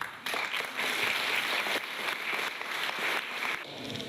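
An audience claps steadily after a musical performance, a dense continuous wash of applause that holds at an even level from start to finish.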